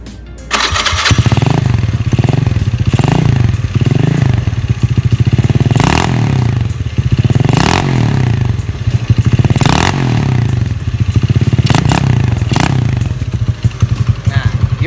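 A slim automatic scooter fires up close to the exhaust and settles into a loud, chugging idle, lifting into several short revs at regular intervals and dropping back each time, with no speech over it.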